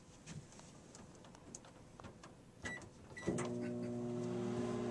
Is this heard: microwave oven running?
yes